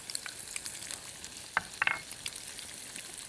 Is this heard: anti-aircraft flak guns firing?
no